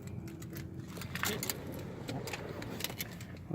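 A pair of combo keys for a 2018 Dodge Caravan SE Plus jangle and clink close by in bright, rattling bursts, with quiet handling noise in between.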